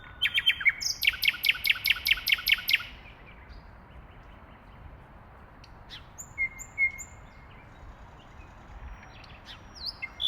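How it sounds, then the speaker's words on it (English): A nightingale sings a rapid series of about ten loud, repeated chirping notes, then falls quiet before a few fainter, scattered whistles and calls against a low background hum. "I think I recorded about 20 nightingales"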